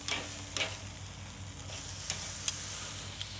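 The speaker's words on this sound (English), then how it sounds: "I'm just gonna go back on a little bit just to try to finish off to get a nice looking sear" Wagyu ribeye steaks sear over direct heat on a Slow 'N Sear kettle grill, giving a soft, continuous hiss with a few sharp crackles and pops scattered through it.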